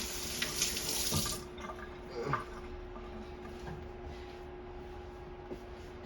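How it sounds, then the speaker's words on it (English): Water runs from a tap or shower, with a brighter, louder gush in the first second and a half. After that it settles into a steady, softer stream, with a few faint knocks along the way. "Debo, go and take a shower"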